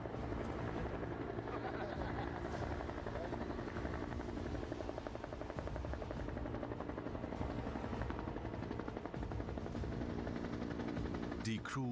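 A military helicopter's rotor thumps and engine whine drone steadily and loudly, close by, with no break for the whole stretch, during German Army mountain training in high terrain.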